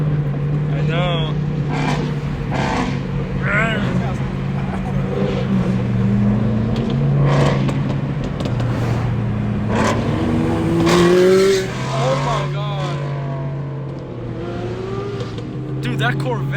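A Chevrolet Corvette engine revs and drones nearby during a street cruise, its pitch rising and falling in several swells beneath ongoing conversation from people in the car.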